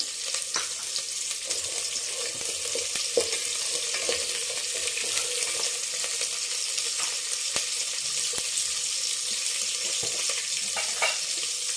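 Green chillies fry in oil in a pan for potato kurma, a constant close sizzle with crackling pops and occasional sharp taps of a utensil against the pan.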